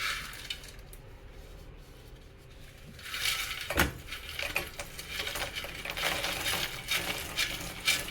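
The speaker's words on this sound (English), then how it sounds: "we'll switch off the flame and add the spice powder. Mix it and we'll add the fried" Fried banana chips are stirred into thick jaggery syrup with spice powder in a pan, giving quiet scraping and crisp clattering that grows busier after a short soft stretch, with no talking.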